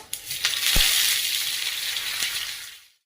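Green chilli pieces, sesame seeds and curry leaves hit hot oil and sizzle loudly, a bright steady hiss with a few sharp pops and crackles, fading out in the final moment.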